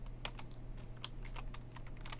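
Rapid typing of code on a computer keyboard during a programming lecture, a close, irregular run of crisp key clicks over a steady low hum, with no talking.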